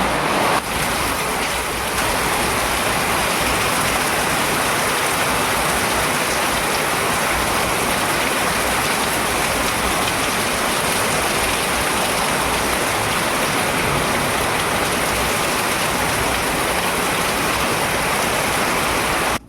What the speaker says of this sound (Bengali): এই বৃষ্টির জন্য কিন্তু আমার কাজে অনেকটা দেরি হয়ে গেছে